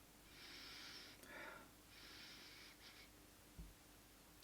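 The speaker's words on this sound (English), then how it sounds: "let's just give this a sniff" A few soft, close nasal sniffs of an out-of-date beer in a glass come in short bursts, separated by quiet pauses, followed by a faint clink at the end.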